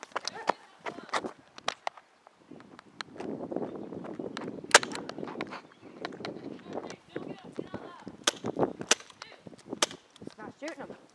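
Airsoft guns fire sharp, scattered snaps during an outdoor airsoft war, mixed with footsteps and shouting voices, with the shots coming in irregular single cracks and short clusters.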